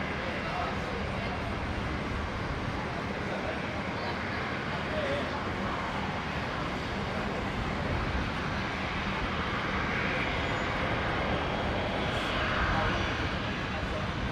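Boeing 787 Dreamliner at Brisbane International Airport, a broad, continuous rumble of jet engines at moderate distance, swelling slightly toward the end, with people talking over it.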